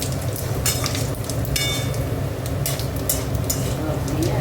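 Radhuni and fenugreek seeds sizzle in hot oil as a tempering for titor dal, a loud, steady hiss broken by sharper crackles and the light scrape of a spoon. A low hum runs underneath.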